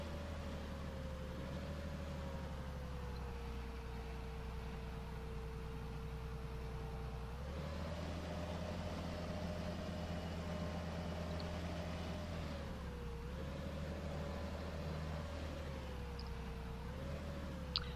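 Tractor engine in the Farming Simulator 15 video game, a steady droning motor hum that rises in pitch a couple of times as if revving, continuous and fairly quiet with no talking.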